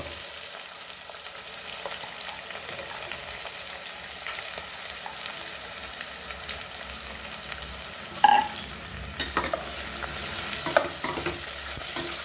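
Garlic and onion frying in a pan for Goan chicken bafat curry, a soft steady sizzle with scraping stirs, a louder spoon clatter near the middle, then brisker stirring toward the end.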